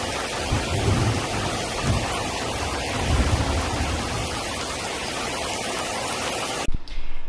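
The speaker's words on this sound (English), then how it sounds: "You can hear the thunder." Steady rain pours outdoors as a storm begins, with low rumbles of thunder under the constant wash of rain and a sharp knock near the end.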